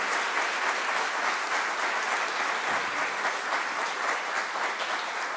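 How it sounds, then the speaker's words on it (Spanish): Steady, dense applause from an audience at a labour law and social security congress held at a bar association, loud and continuous throughout with no speech over it. "pidiendo un aplauso para ellos"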